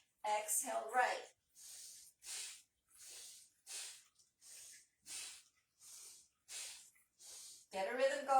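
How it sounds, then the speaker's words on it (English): Alternate nostril breathing: a long run of evenly spaced, close, hissing nasal inhales and exhales in a steady rhythm, with a person speaking briefly at the start and end. "Inhale left, exhale right."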